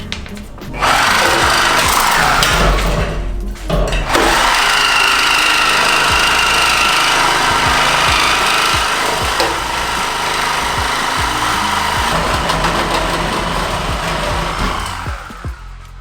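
A power tool saws through the muffler of a Nissan Z31 exhaust, a loud, continuous grinding and buzzing cut running nearly unbroken for about fifteen seconds before tapering off.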